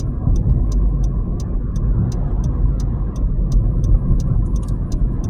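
A car drives through morning traffic on the commute to work, its steady engine and road rumble filling the cabin while a turn-signal indicator ticks in an even rhythm throughout.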